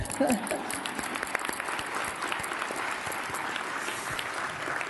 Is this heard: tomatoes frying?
no